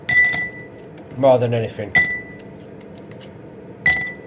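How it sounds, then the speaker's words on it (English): Ice lumps dropping and clinking into a glass in a few sharp, bright strikes, close by, with someone talking briefly between them. "first of all, we'll get the lumps in the glass and just to add a bit of coldness"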